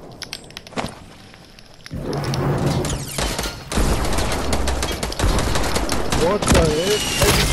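Video game firearm shooting through a wall: a quiet stretch with a single early crack, then sustained rapid automatic fire with booming hits, a voice briefly audible near the end.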